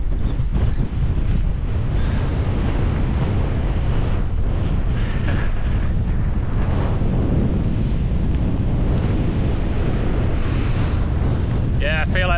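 Wind roars steadily across the microphone at a wet wild camp in the Peak District near the Wool Packs, a loud, constant rumbling buffet with brief talk faintly beneath it.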